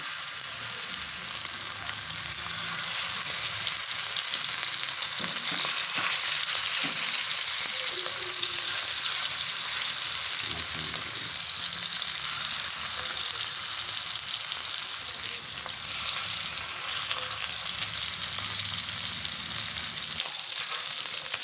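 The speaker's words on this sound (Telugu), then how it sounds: "ఇలా ఆయిల్లో అయితే మంచిగా ఫ్రై అవుతుంటే" Mackerel fish pieces frying in hot oil on a flat pan, a dense steady sizzle and spitting crackle, close and continuous with a few soft knocks, no speech.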